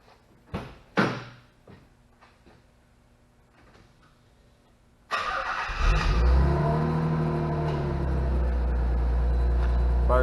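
A 1990 Nissan Fairlady Z Twin Turbo cold-starts after a few faint clicks and thumps: the engine cranks and catches abruptly, then settles into a loud, steady, rumbling idle close by.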